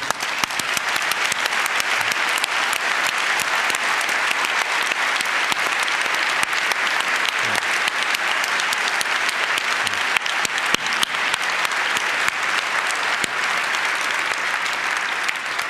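Sustained, dense applause from a conference audience honoring helpers fills the space evenly and loudly for its whole length, a steady crowd texture with no talk on top.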